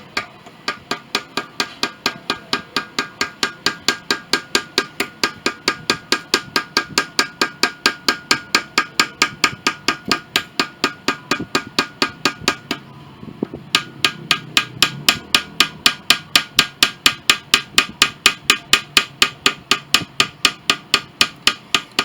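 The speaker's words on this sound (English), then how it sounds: "You just take light taps first, because you don't want to get too deep with that." A hammer taps steadily on a chisel while carving scarlet oak, giving a long run of sharp, evenly spaced strikes at close range. After one brief pause the light rhythmic tapping resumes, with no talking.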